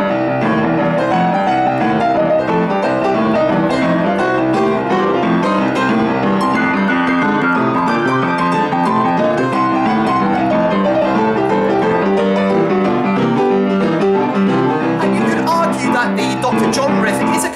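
Lively boogie-woogie piano plays continuously with a rolling bass and quick trilled right-hand figures, dense and loud from start to finish.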